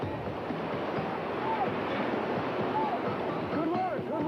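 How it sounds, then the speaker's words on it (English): Ocean waves wash steadily against a small boat, a constant rushing surge with wind buffeting the microphone; a voice calls out briefly over the water noise. "Got a couple of good waves in here,"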